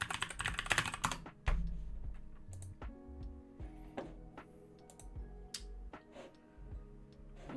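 Rapid, close-up clatter of a computer keyboard during a web development coding session, with the keyboard stuck on Mac settings; clicks come in quick bursts with brief pauses, over a low background hum.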